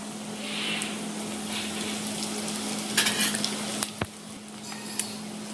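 Chivda made from thin flattened rice is stirred in a pan of hot oil with chillies and asafoetida over low gas, giving a steady sizzle with scraping spoon strokes and a few sharper clinks.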